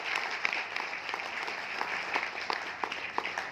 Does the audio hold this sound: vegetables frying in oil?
no